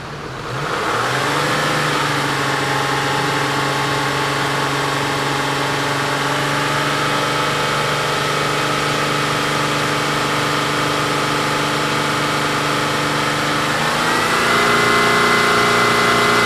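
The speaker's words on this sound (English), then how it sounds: "Before I click onto this, I want to purge my engine." A car engine revs up to purge and clear itself, holds a steady loud drone, then settles to idle with a shift in pitch toward the end.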